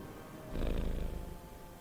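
A soft, low purr from Ebony, a cat in Marvel's Midnight Suns, swells briefly for about a second over a faint steady background hum.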